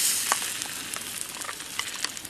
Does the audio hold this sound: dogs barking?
no